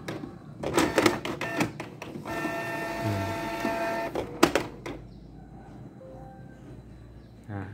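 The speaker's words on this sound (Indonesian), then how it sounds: "printer akan otomatis memprint kertas" A Canon iP2770 inkjet printer runs an automatic print: motors whir and clatter in bursts, a steady mechanical hum of the print head moving, then paper-feed clicks and thumps, close and fairly quiet.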